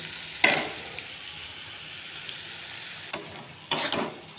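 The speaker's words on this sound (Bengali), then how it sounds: "ভীষণ ভালো করে সবজিটা ভাজতে হবে" Vegetables fry in a pan for a Bengali small-fish dish, with a low continuous sizzle and a few sharp scraping or clattering bursts from stirring.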